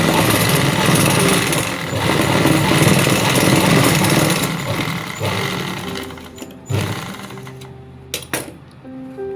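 A sewing machine stitches a trouser pocket in slippery fabric with a loud, continuous whirring run that slows and stops, followed by a few sharp clicks and handling sounds.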